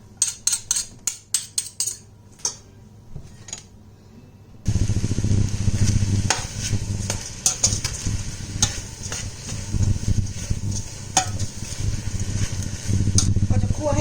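Dried bamboo shoot mixture with pork being stir-fried in a pot, starting with a few sharp utensil scrapes and clinks, then a steady loud sizzle with repeated scraping stirs running to the end.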